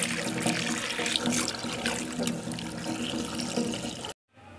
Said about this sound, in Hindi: इसमें मैं पानी भर के रख दूँगी, पूरा ऊपर तक हमें पानी भर के रखना है